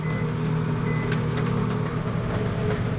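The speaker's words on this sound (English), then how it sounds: "Pop that into the microwave for another second and let it get back up to temperature." A microwave oven runs with a steady low hum while heating soft plastic for pouring fishing lure molds, the drone continuous and fairly loud with faint faster ticks layered on top.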